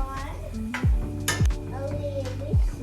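Cooked rice being stirred and mixed in a bowl while preparing a family lunch, with soft scraping and clinks of a utensil against the dish, plus a few short tonal squeaks and a faint voice in the background.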